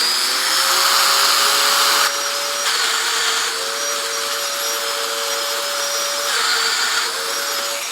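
Domino joiner plunge cutting through holes in wood, a loud high-pitched motor whine with several distinct cuts as the tone steps down and back up in repeated passes.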